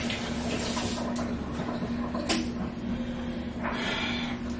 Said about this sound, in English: I'm gonna just wash my hands really quick.